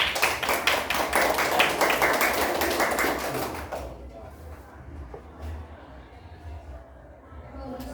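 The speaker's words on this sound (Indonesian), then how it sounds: "tepuk tangan buat Arya" Pupils in a classroom clap for a classmate after a correct answer, a dense burst of claps for about four seconds that stops abruptly, leaving quiet room noise and faint scattered sounds.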